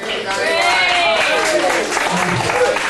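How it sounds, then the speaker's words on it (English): Crowd at a comedy stage hypnosis show applauds a volunteer named Danny walking up, a steady wash of clapping running under the hypnotist's continuous talk. "give Danny a round of applause"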